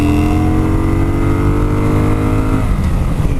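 A Kawasaki Vulcan motorcycle engine revs loudly and close, pitch climbing steadily through a gear, then dropping off sharply near the end as the throttle closes, with no talking.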